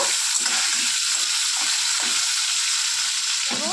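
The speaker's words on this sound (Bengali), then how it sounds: "লাল লাল করে আলুগুলো ভেজে তুলে নেব।" Potato pieces fry in a pan of hot oil, giving a constant, loud, close sizzle with soft stirring scrapes and clinks breaking through now and then.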